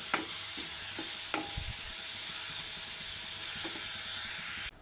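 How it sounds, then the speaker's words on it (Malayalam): Grated fresh coconut fries in coconut oil in a pan with a steady hiss, a few brief scrapes of a spatula, close and without speech. "കുറച്ച് വെളിച്ചെണ്ണയും കൂടെ ഒഴിച്ച് കൊടുത്ത് വറുക്കാം"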